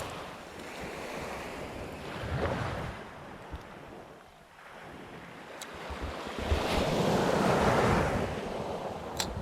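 Strong night surf surging onto a shore, heavy waves rolling in and washing up in broad swells, with one loud crest near the middle and a bigger surge toward the end, wind buffeting the mic throughout.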